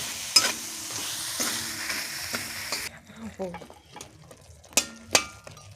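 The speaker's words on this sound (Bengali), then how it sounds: "আলুটা দিয়ে এখন আমি কষিয়ে নিব" Potatoes with chopped green chili sautéing in a pan, with a steady sizzle and sharp clinks of a utensil stirring against the metal, then quieter scraping and a few louder knocks.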